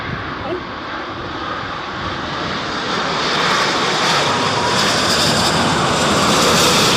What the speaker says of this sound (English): Cathay Pacific 5th in line to land.